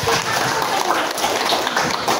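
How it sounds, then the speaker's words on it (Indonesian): Classroom applause from students during a lesson, a steady broadband patter of clapping hands filling the whole moment at even loudness, with no clear talk over it. "Tepuk tangan."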